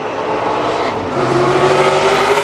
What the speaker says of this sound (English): the number 6 car that we heard had out there actually racing around a little bit, number 7 Ron Eaton